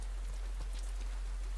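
Steady rain patters in The Last of Us Part I, an even wash of drops falling on surfaces, constant and moderately loud with no voices.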